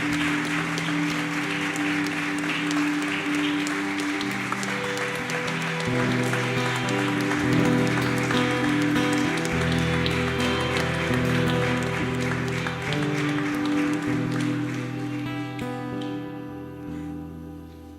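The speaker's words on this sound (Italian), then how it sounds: "Possiamo fare un applauso al nostro Signore che è qua in mezzo a noi" A church congregation at an evangelical worship service in Verona applauds, sustained clapping over a backdrop of music with tonal instruments throughout, fading slightly near the end.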